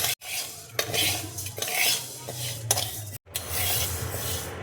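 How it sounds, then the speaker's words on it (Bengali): Moong dal dry-roasting in a dry kadai, stirred with a spatula in steady scraping, rattling strokes, close and fairly loud, with a couple of brief pauses. "কড়াইয়ে দেখো মুগের ডালটা দিয়ে দিচ্ছি। শুকনো কড়াইয়ে দেখো আমি ভেজে নেব।"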